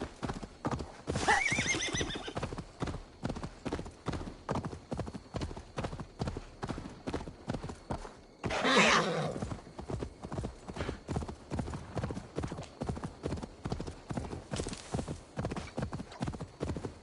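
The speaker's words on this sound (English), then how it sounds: "It's also just a lot faster to horse ride over here." Horse riding in the video game Assassin's Creed Valhalla: steady galloping hoofbeats clip-clop in a quick, even rhythm throughout, broken by two loud whinnies, with faint talk in the background.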